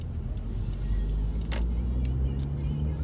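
Road traffic passes on a very cold day near a Stop and Shop in Lyndhurst, New Jersey. Car engines rumble steadily in the middle distance, and a few brief clicks and clatters break in around the midpoint.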